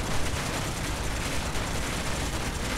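Rapid cannon fire roars continuously in the video game Space Engineers, a loud, dense barrage of overlapping shots with no pause.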